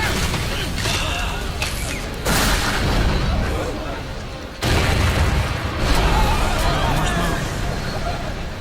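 Cannon fire rumbles in the Attack on Titan anime as two heavy booming bursts, each rolling into a long loud roar amid background voices.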